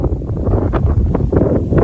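Strong Mistral gusts near Marseille in the south of France at about 60-65 km/h, buffeting the microphone as a loud, continuous rumbling roar with rustling bursts.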